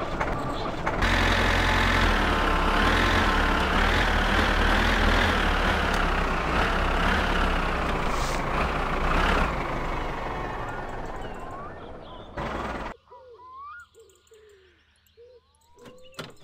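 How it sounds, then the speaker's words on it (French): An old tractor in the game My Summer Car drones with a loud, steady diesel rumble that wavers slightly in pitch, then cuts off abruptly, leaving quiet birdsong and chirps in the background. "Tracteur."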